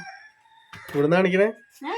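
A rooster crows loudly nearby, a drawn-out strained call, followed by the start of another crow; a faint bird tone lingers in the quiet before.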